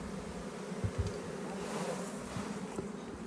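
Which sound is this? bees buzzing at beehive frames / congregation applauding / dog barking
bees buzzing at beehive frames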